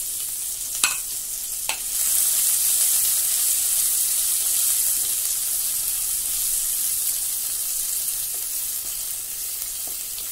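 Chopped onion hits hot oil in a pan while making a fish kalia, producing a steady loud sizzle with a couple of clatters at the start, continuing evenly without talk.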